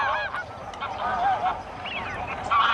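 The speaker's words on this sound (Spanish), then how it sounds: "familias y tribus de gansos nacidos en una amplísima región del norte de Europa" A flock of geese honks continuously, many overlapping calls from birds that winter in a wetland after migrating from northern Europe, moderately close and steady throughout.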